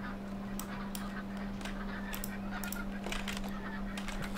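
Ducks quack and honk in a farm game, short scattered calls repeating over a steady low hum, fairly faint and without talk.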